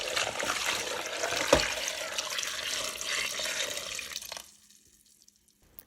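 Water gushes into a large cooking pot over apples, a loud steady pour lasting several seconds before it cuts off and leaves near silence with a few faint drips.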